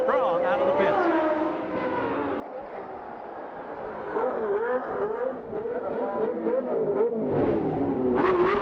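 A CART Indy car at the 1991 Indianapolis 500 screams out of the pits, its high-revving engine rising through the gears with loud pitch sweeps and a brief shift gap, while a commentator talks over it.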